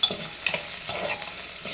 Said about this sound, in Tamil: வெங்காயத்தை வந்து சிம்மில் வச்சு வதக்குங்க